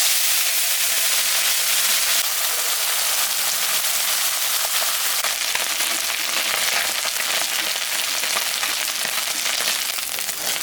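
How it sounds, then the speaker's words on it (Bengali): Fish frying in hot oil in a wok gives a steady, dense sizzle and hiss throughout, close and fairly loud, with no voices. "আমি কড়াই বসা দিয়েছি, তেল গরম হয়ে গেছে। আমি এখন মাছটা ভাজবো।"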